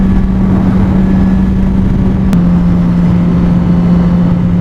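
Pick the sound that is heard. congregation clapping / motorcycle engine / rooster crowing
motorcycle engine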